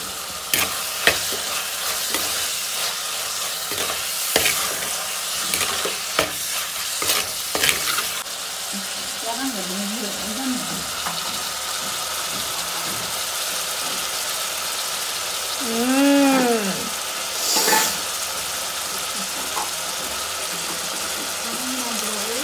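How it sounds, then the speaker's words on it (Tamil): Fresh prawns frying in bubbling oil in a pan for a Jaffna-style prawn curry: loud, dense sizzling and crackling at first, then a quieter, steady fry with occasional stirring. "அந்த எண்ணெய் புரண்டு வந்து சும்மா ஆவி மேலால பறக்குது"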